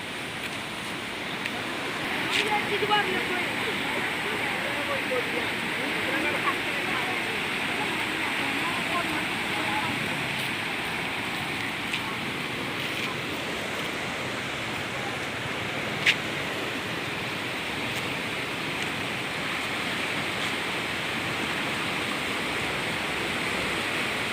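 The swollen Marutha Kalakkan river floods over its banks after heavy rain, giving a constant, loud rushing roar of fast-moving water that continues unbroken.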